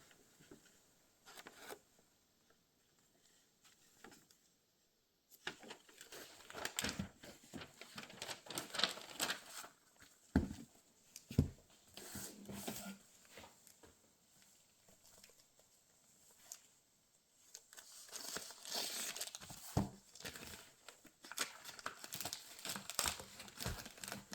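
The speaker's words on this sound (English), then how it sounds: "Nice folding map of Japan." Crinkling and rustling of an old illustrated book's folding paper map of Japan as it is unfolded and handled, close and quiet, in irregular bursts with pauses and no talk.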